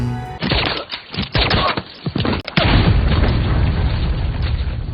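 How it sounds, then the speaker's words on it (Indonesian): A grenade blast in an action-film fight scene: a string of loud, booming bursts gives way to a sustained, roaring explosion that fills the rest of the moment. "Usubo melempar sebuah granat"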